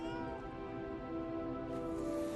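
A cat in a video game gives a drawn-out, tonal meow over a steady sustained game sound, close and moderately loud.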